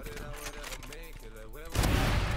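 Gunfire in the tactical shooter game VALORANT during a round after the spike is planted, with a loud burst of shots erupting near the end after a stretch of voices and game sounds.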